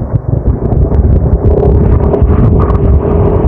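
Strong wind buffeting the microphone in a constant low roar during a women's road cycling race at the 2023 Tour of La Union, Philippines, with a vehicle-like hum underneath and no voices.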